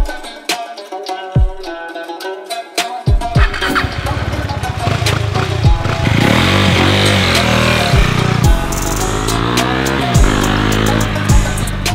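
A motorcycle doing practice laps: after a few clicks and knocks the engine starts, then revs loud and close, its pitch rising and falling steadily as it rides.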